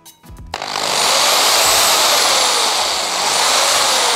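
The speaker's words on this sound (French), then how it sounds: "Là, tout simplement, la perceuse." A Dremel 3000 multi-tool drills holes while a candle holder is being made. After a few faint clicks, the motor spins up into a loud, sustained high-pitched whine with a steady gritty buzz, alone and without talk.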